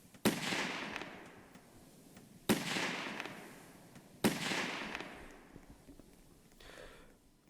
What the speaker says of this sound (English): probably shouldn't fire distress rockets indoors